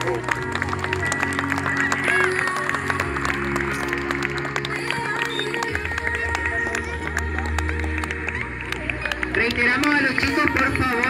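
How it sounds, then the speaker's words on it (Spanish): Audience at a school graduation ceremony clapping steadily for the graduating pupils, continuous broadband applause over crowd murmur and a low musical drone, with louder cheering near the end. "Fuerte el aplauso para nuestros egresados."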